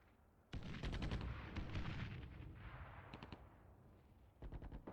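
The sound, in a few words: artillery fire in Armored Brigade II video game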